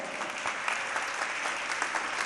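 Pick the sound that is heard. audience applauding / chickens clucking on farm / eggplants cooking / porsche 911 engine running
audience applauding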